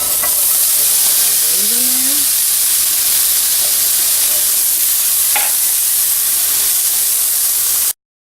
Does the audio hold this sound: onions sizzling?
yes